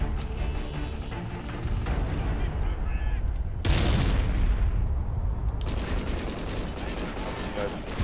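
In a search and destroy video game match, gunshots and heavy booming fire crack out in bursts, with a loud blast near the middle followed by a fading rumble.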